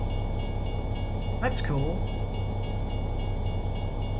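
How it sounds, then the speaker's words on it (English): Tram passing in American Truck Simulator, a steady rail rumble with a brief rising-falling horn or bell tone midway, heard under a continuous engine drone with a short spoken remark. "Look at this. It's a tram."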